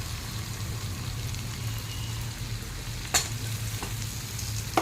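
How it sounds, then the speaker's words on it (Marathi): Whole masoor lentils fry and get stirred in hot oil and masala, a steady close sizzle running throughout, with a few sharp scraping clicks of the spoon near the end. "आता छान ढवळून घेऊयात"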